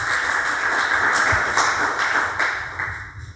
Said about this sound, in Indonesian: Beri tepuk tangan buat Tuhan Yesus.